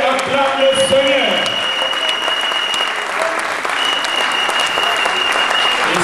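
A church congregation at an evangelistic service in Rotterdam applauds and acclaims the Lord: loud, sustained clapping from a large crowd with a few whistles and shouts mixed in, continuous throughout.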